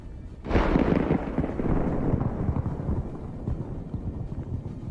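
Thermal traps burst inside a burning Russian T-80 tank, a sudden loud blast followed by a sustained, roaring crackle of fire and popping explosions that rumbles on without pause.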